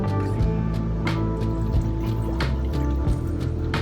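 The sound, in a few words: water poured into a bowl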